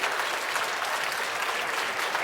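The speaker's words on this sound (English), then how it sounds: "can I get one last round of applause for our amazing special awardees?" Audience applause for special awardees closes a podcast roundtable honoring America's top 18 under 18, a steady, dense clapping from a room full of people that holds at an even level throughout.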